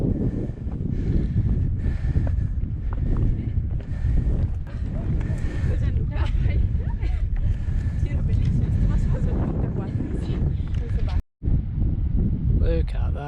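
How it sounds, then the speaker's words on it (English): Strong wind buffets the microphone in a constant low roar on a hiking trail at Ponta de São Lourenço, Madeira, with a voice speaking underneath and one brief dropout near the end. "it's extremely windy, but I do have a wind killer now"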